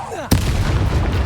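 A Bombarda blasting spell explosion in the Hogwarts Legacy video game: one sudden sharp blast followed by a rumbling, sustained roar, loud and close, right after a brief swooping magical whoosh.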